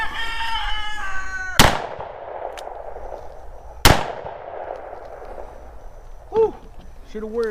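Two loud, sharp .357 handgun shots are fired at 3/4-inch plywood outdoors, a couple of seconds apart, each with a short ringing tail; voices are heard before and after.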